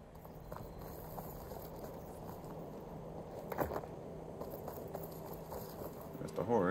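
Soft rhythmic hoofbeats of a horse clip-clopping in the PS5 game Horizon Forbidden West, mixed with game ambience and occasional thuds, fairly quiet and steady.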